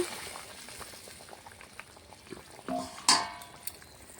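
Fried eggplant pieces go into a thin, simmering hilsa fish curry, with soft bubbling, a few light clinks and splashes, and a brief sharper scrape of a utensil near the end.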